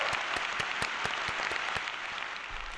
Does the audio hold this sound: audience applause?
yes